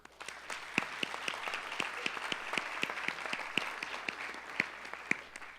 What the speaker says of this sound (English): I would like everybody to give a big round of applause for the speakers,